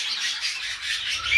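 Newly bought zebra finches call from inside a cage, giving a steady stream of high, close twittering and chirping with no gaps.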